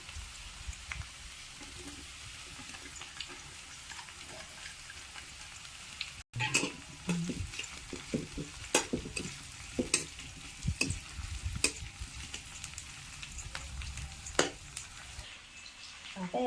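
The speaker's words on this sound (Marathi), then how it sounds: "कांदा थोडासा कलसून घेतला आता यात लसूण मिरच्या टाकून देऊ हिरव्या" Garlic and green chillies go into lightly fried onion in a pan, raising a crackling sizzle with irregular stirring scrapes and sputters, close-up and fairly quiet, with faint talk at moments.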